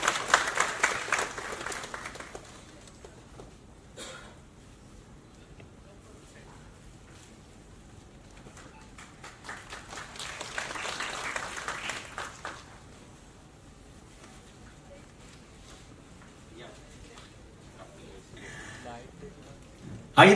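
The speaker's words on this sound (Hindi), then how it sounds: "जोरदार तालियां प्लीज" An audience applauds at a laptop distribution ceremony in two fairly distant waves of clapping, one at the start and another mid-way, with quieter room sound in between.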